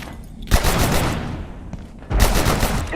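A grenade goes off in the video game Abiotic Factor, with two loud, crackling blasts about one and a half seconds apart, each followed by a rumbling tail.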